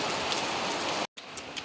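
Steady rain falls in a village yard during a spell of bad weather, a dense close hiss that drops out briefly near the end before resuming.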